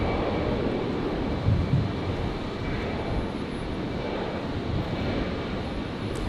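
A QantasLink E-Jet departing runway 01 right at Brisbane Airport, a steady, fairly distant broadband engine roar without talk.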